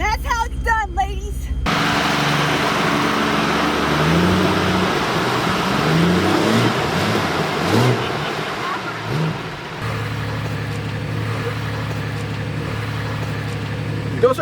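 A Jeep Compass on street tires drives through a mud hole off road, its engine roaring and revving continuously with splashing and road noise, loud and close, while people talk over it.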